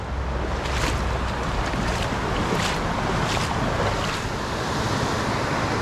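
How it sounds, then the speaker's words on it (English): Steady roar of waterfalls along a fishing creek, a loud broadband rush of falling water with gusty wind buffeting the microphone, continuous and close with no talking. "I feel like I'm talking really loud, but I feel like I maybe have to because of the waterfalls here."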